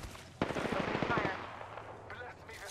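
Rapid gunfire in an Apex Legends-style firefight, a quick burst of close shots that fades into game noise, with players' voices around it.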